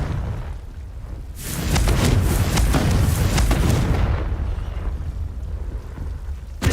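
The Confringo fire spell explodes in the Hogwarts Legacy video game. A loud, rumbling blast rolls on for several seconds with a crackling, debris-like texture before easing off.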